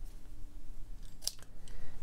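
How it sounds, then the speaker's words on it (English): Scissors snip the edges of a paper quilling strip: one crisp, sharp cut close up, with a lighter second snick just after, over quiet room tone. "I just take my scissors and snip along those edges"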